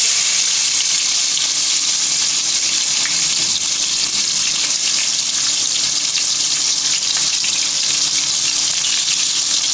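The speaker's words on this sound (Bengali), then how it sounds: "এবার এই তেলের ভিতর দিয়ে দেবো তেজপাতা, পেঁয়াজ" Bay leaves and onions hit hot oil in a pan, giving a steady, loud, even sizzle that hisses without a break throughout.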